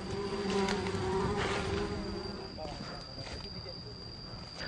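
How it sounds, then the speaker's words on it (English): Honeybees swarming near a wild nest in Hoa Binh, Vietnam buzz close by, a persistent droning hum that fades somewhat over several seconds, with faint voices and outdoor noise behind it. "We're going to try and get enough together so we can smoke out the bees."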